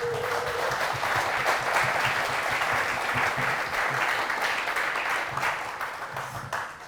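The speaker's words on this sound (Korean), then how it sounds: "영광의 박수 올려드리겠습니다." A church congregation at a Methodist prayer meeting applauds steadily and loudly, dense clapping sustained for about seven seconds before tapering slightly at the end.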